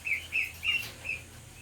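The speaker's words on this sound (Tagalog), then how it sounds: "Yan na lang po natitira nating ibon, kakatail." A cockatiel gives four quick, bright chirps close by, spaced evenly over a quiet background.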